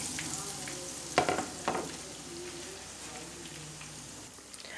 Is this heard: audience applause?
no